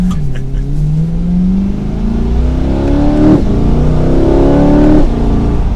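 A 2023 Chevrolet Corvette Z06 in track mode with a manual setting, warmed up, revs hard up to just above 4,000 rpm, its engine note climbing and rising steadily, loud and close throughout.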